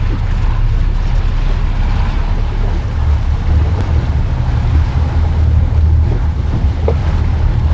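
Steady low engine rumble of a motor boat turning around in Tampa Bay, with wind buffeting the microphone and water noise, continuous and loud throughout.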